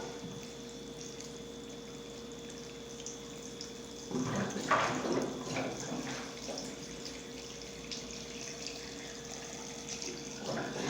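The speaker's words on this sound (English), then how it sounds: "I'm going to fill this up with water" Running water streams into a glass jar, quiet at first, then a louder splashing burst midway before easing back to a steady trickle.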